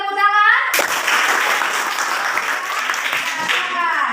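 Classroom applause from students bursts out suddenly and fills the room with dense, steady clapping for a few seconds, with voices chattering at the start and end around it.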